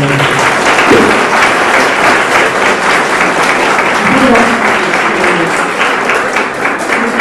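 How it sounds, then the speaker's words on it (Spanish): Sustained applause from the audience at a university gathering on art and feminism, a dense, steady wash of clapping that holds at full loudness for the whole stretch with a few faint voices underneath. "Pues démosle un aplauso por favor."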